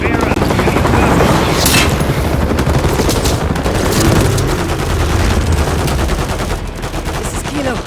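Heavy battlefield gunfire in the Modern Warfare 3 campaign on Xbox One, a loud, sustained mix of automatic rifle bursts and single shots with booming impacts, radio voices talking underneath throughout.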